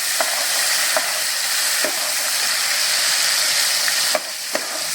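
Ground onion paste, three medium onions, dropped into hot soybean oil, a loud continuous sizzle and hiss with a few sharp spoon taps against the pan, close up and unaccompanied by speech.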